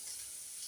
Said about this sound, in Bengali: পেঁয়াজগুলো লাল লাল করে ভাজা হলে